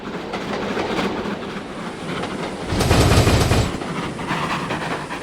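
A train from the Trainz 22 railway simulator rolls along the track with a steady rumbling run and faint rhythmic clatter, swelling louder for a moment midway before settling back, with no voices.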